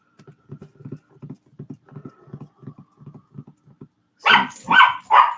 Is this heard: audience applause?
no